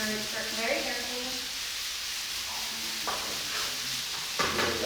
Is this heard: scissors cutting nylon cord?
no